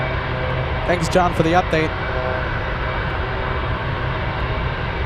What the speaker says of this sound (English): Looks like we have another C-17, this time departing at Elmendorf